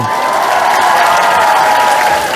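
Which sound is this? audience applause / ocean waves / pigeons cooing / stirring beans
audience applause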